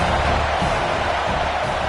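Home crowd in the college football video game NCAA Football 26 roars as a loud, steady, dense wash of cheering and noise that holds without a break throughout.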